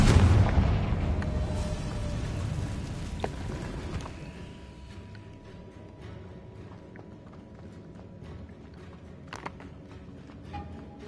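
Spell-blast explosion from a Harry Potter video game, a loud booming burst at the start that rumbles and decays over several seconds into quieter ambient noise with a few faint clicks.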